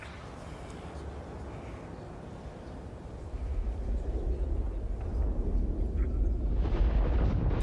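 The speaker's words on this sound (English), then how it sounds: "You'll see an explosion get flat right now." A MOAB bomb detonating in the Star Citizen video game: a quiet airy rush suddenly swells into a heavy, deep, sustained roar that keeps building and rumbling to the end.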